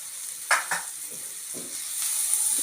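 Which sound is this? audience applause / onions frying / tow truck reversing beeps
onions frying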